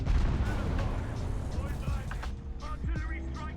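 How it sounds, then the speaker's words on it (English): Artillery strike explosions in a tank video game battle near a T-62, a dense run of heavy booms and rumbling impacts over continuous low mechanical noise, loud at first and easing slightly, with a voice speaking over it. "Artillery strike in your sector."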